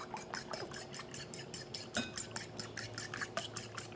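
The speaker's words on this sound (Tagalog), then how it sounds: "Tapos itong itlog, batihin lang natin." Two eggs beaten in a bowl for chicken katsu breading, with quick, steady utensil strokes clicking against the bowl at a regular rhythm, close and fairly quiet.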